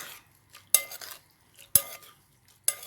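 Ingredients for Thai fish-kidney chili paste with garlic and long beans get stirred together, three distinct scraping clinks of a utensil against a pot at roughly one-second intervals, close and otherwise quiet.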